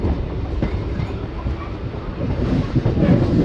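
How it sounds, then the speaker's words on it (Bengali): A Rampurhat–Jasidih MEMU passenger train runs through hilly Jharkhand, a steady, broad rumble with faint clickety-clack from the wheels, heard from inside the moving carriage with some wind noise. "দেওঘর থেকে ট্রেন ছেড়ে দিয়েছে"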